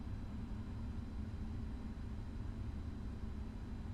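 GE90 engine starting on a PMDG 777F freighter in Microsoft Flight Simulator, a steady low rumbling roar with constant hiss, heard from inside the cockpit without talk.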